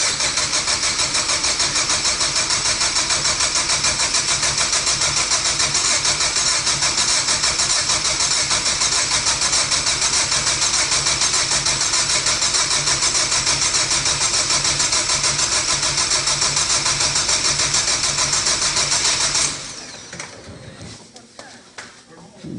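An engine cranks steadily for about twenty seconds on its first startup attempt, loud and close, with a continuous whirring drone that cuts off abruptly near the end.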